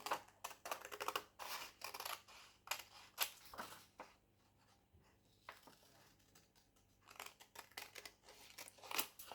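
Scissors cutting out fabric for a skirt, giving close, crisp snipping and crunching strokes in bursts, with a quieter stretch in the middle before the cutting resumes.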